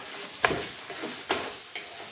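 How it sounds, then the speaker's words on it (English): Onion goes into a pan with ginger garlic paste, coconut, chilies and curry leaves for Kerala spicy beef roast, with a quiet sizzle and three brief scraping stirs of a spatula. "I'm going to put the onion, give a stir"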